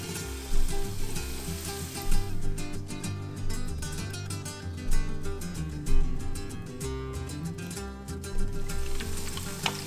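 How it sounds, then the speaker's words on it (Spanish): Battered fish frying in hot oil, a continuous crackling sizzle with bursts of sharper pops and spatters, close and fairly loud, over a steady bed of background music. "Sumergimos el pescado en el rebozado, lo escurrimos ligeramente y lo agregamos al aceite caliente."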